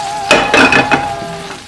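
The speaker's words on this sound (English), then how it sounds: "our little soy crumbles are ready, and we're going to add it to our soup. Give that a little stir." Soy crumbles are stirred into a vegan mole tortilla soup in a pot, with a few short scraping, sizzling strokes close by over about a second.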